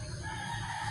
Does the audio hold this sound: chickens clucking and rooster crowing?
yes